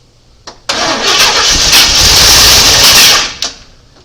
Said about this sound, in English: hope it actually cranks when he hits the key